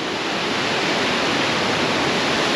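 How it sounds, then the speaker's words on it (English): Waterfall heard from the bridge in front of it in mountainous Sri Lanka, a loud, close, continuous roar of falling water, steady throughout with no voices. "We're walking onto the bridge of the waterfall"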